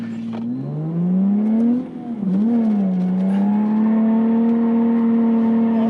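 An IS200 with a welded differential revs hard through a full figure of 8, its engine note rising and falling in steady harmonic sweeps as it turns, loud and close with no talk.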